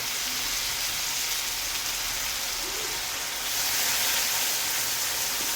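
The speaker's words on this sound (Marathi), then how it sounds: "मोठ्या गॅसवरती सगळं परतून घेत आहे" Matki usal and potatoes sauté over a high gas flame, giving a steady, even sizzling hiss that rises slightly toward the end, with no talking.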